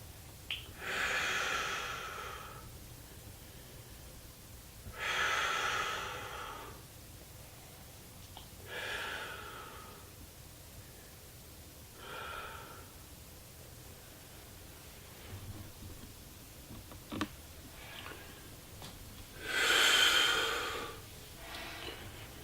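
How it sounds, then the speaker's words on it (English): Slow, breathy exhales during a seated leg stretch with head down, five or six long airy breaths spaced several seconds apart, close and fairly soft with quiet pauses between. "exhale while trying to straighten the legs as much as possible with each exhale"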